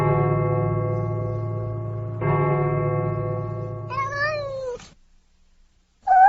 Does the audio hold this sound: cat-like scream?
yes